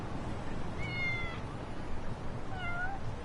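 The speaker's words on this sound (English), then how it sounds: "I heard a kitty." A cat meows in the video game Lost Judgment, two short, clear meows a moment apart over a steady background hum.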